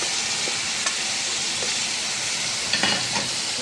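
Potato curry frying in a pan, sizzling steadily up close, with a few light scrapes and clinks from stirring and no talk.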